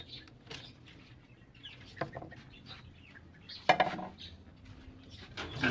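A rooster is let loose in a backyard pen among hens and chicks, giving a few soft clucks and scuffling sounds with a sharp clatter partway through, fairly quiet and close, with no talk.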